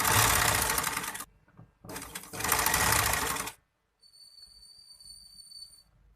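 A sewing machine stitches a sleeve seam in two loud, steady runs of about a second and a half each, with a short pause between them and a faint high whine afterward.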